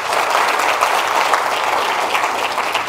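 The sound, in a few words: audience applause for the doctor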